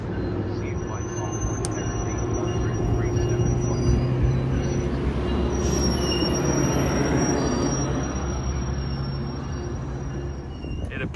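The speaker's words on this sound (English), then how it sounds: "We just disembarked the train, and now we gotta find the bus." Train wheels squeal and railcars rumble at a station just after passengers step off, a steady loud mechanical drone with high metallic screeching, voices talking over it.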